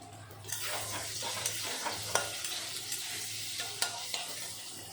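Potatoes sizzle steadily in a hot pan with oil, while a utensil stirs them in several sharp scraping clicks over the constant frying hiss.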